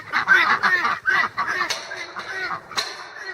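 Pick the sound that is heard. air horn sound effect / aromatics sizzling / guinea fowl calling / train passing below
guinea fowl calling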